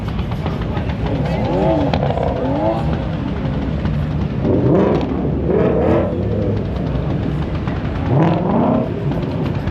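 A BMW drag car launches and accelerates at a drag strip, with bursts of revving and climbing engine pitch near 5 and 8 seconds over a rumbling background of other engines.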